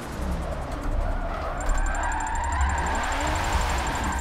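Car drifting into a turn in Forza Motorsport 7, its engine droning steadily with a rising whine and tire squeal sliding through the corner, loud and continuous throughout.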